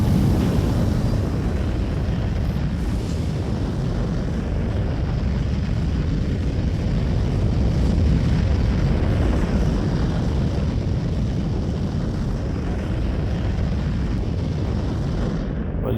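A spaceship in Star Citizen flies with its landing gear raised, giving a loud, steady engine roar with a broad rumble and airy wash that holds constant throughout.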